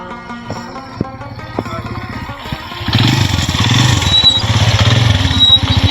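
A motorcycle idles with a slow, loping putter and a few clanks, then pulls away and settles into a louder steady engine drone while riding, close to the microphone throughout.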